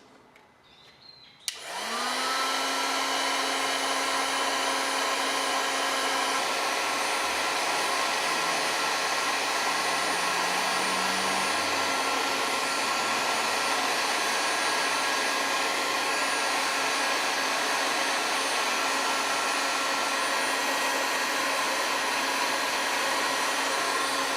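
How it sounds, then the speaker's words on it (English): A heat gun switches on and blows with a loud, steady whooshing whine, running continuously and close by as a plastic part is heated and curved. "the easiest way I find to curve something like this is with a heat gun"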